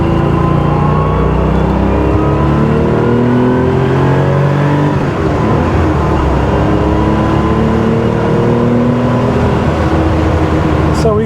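The overhauled air-cooled flat-six of a 1979 Porsche 911 SC Targa drones steadily under way, its loud engine note rising and falling through gear changes with constant road and wind noise throughout.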